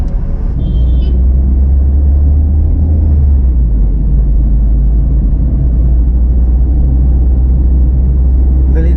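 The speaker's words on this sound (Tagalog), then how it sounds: "Oh, traffic again." Steady low rumble of slow city road traffic in Cagayan de Oro, heard from inside a moving car on a hot Sunday drive, continuous engine and road noise with faint higher sounds at the edges.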